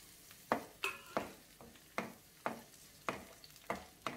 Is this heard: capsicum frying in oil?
yes